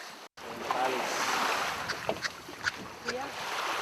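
A boat with a hole in its hull moves over the water, with a steady rush of water and wind, scattered splashes and knocks, and people talking over it.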